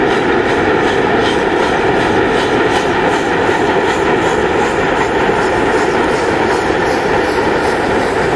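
Russian steam locomotive running, a Class P36 in double-headed service, with a loud continuous rumble and steady rhythmic chuffing throughout, heard close as if from the cab.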